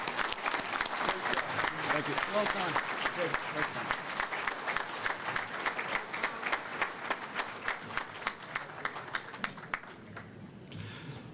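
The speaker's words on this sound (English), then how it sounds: "let's give one big round of applause to every one of these inductees and their families" Loud, sustained applause from a banquet crowd honoring inductees and their families, dense clapping filling the room before gradually thinning out near the end, with a few voices offering congratulations over it.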